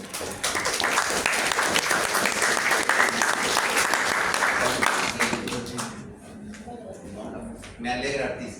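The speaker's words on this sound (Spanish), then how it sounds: "Un fuerte aplauso para Marco" A class applauds a pharmacology student named Marco for a top score: dense, steady clapping from many hands for about five seconds, thinning into scattered claps as talking resumes.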